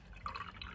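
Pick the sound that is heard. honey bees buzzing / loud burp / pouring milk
pouring milk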